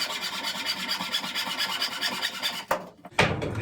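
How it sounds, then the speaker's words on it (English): A timber batten being hand-sawn for narrowboat window trim, a steady rasping stroke rhythm up close, broken by a short pause and a couple of sharper strokes near the end. "I'm just going to measure this one out and cut it off"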